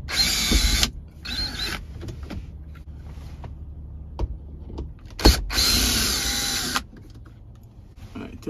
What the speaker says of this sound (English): Okay, we're gonna start by removing those two screws.